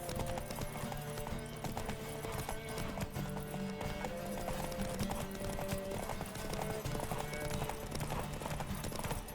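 Horse hooves clip-clop at a steady gallop through The Witcher 3 game world, with occasional whinnies over a dense, continuous bed of game music and ambience.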